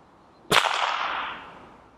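Gamo Varmint Hunter break-barrel air rifle fires one sharp, loud crack, close by, with a short reverberant tail fading over about a second.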